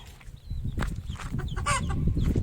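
A hen clucks in short, raspy bursts over a steady low rumble of background noise, fairly close.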